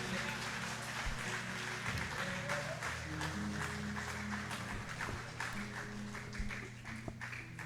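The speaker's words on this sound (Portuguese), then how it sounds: "aplauda ele mais forte mais uma vez" A church congregation applauding during a worship service: a steady wash of clapping that runs the whole time, mixed with sustained music and a voice speaking over it.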